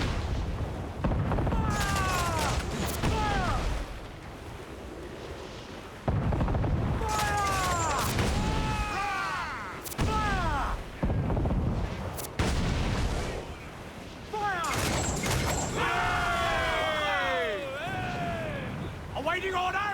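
Ship cannons firing in the Assassin's Creed 4 pirate game, a series of loud booming volleys arriving in clusters every few seconds, with a voice calling out between the blasts.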